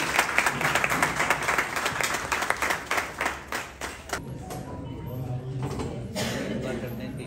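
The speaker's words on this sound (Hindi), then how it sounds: "तो विनोद के लिए जोरदार तालियां।" Audience clapping for Vinod at a Hindi literary gathering, a burst of hand claps that thins and fades after a few seconds, leaving quieter room murmur and faint voices.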